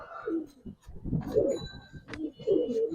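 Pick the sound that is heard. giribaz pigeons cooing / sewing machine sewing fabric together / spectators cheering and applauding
giribaz pigeons cooing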